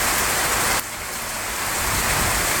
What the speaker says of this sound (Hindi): heavy rainfall